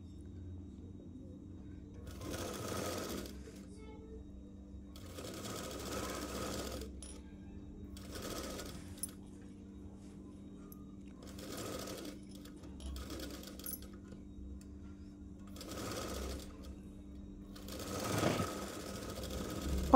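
A sewing machine runs a double stitch on an umbrella dress, whirring in repeated bursts of a few seconds each with quiet pauses between, close and alone with no talk.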